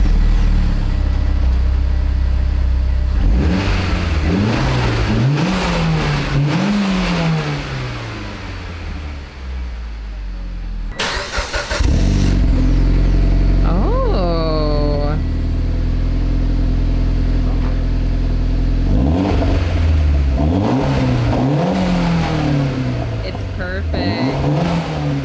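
A Mitsubishi Evo X with an Intoxicated exhaust revs repeatedly, close and loud, rising and falling in sharp bursts, with a sudden loud blip and a whistling spool in the middle before more revving.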